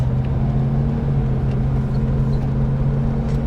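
A 1984 Dodge Ramcharger truck on the road, its engine giving a steady, close, low droning hum with a constant rumble and no talking.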